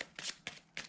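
Tarot cards shuffled and laid out during a card reading, three quick, close, crisp riffling bursts with brief pauses between.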